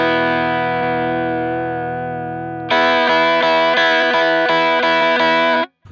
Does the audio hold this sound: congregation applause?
no